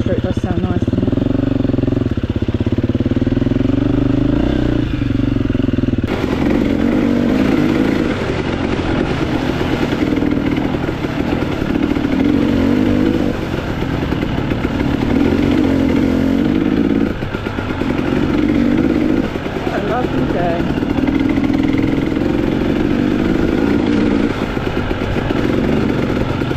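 A 2021 KTM EXC 300 two-stroke dirt bike engine runs loud and close throughout, its buzzing drone rising and falling with throttle, while people talk over it.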